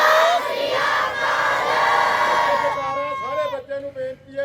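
A crowd roars a Sikh jaikara battle cry at a village martyrdom-day gathering with a hair competition in Khera, a loud sustained massed shout that fades into a lone voice calling out.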